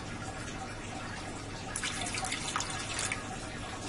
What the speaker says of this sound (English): So I'm going to put in about 2 cups of water.